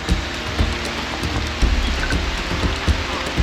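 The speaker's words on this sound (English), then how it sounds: "The rain is really coming down now." Steady rain pouring down on a gravel bike ride through a valley, a continuous hissing wash with soft irregular thumps and patters close by.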